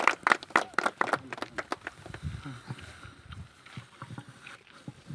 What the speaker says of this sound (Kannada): ಎಲ್ಲರೂ ಚಪ್ಪಾಳೆ ಮೂಲಕ ಪ್ರೋತ್ಸಾಹಿಸಿ